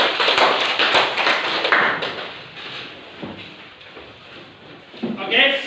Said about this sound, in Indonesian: kita berikan tepuk tangan untuk kelompok 1